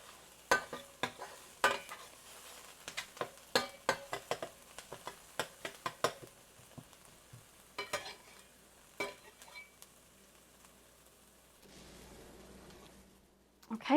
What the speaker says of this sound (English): we're just going to saute the onion and garlic until I can really smell that garlic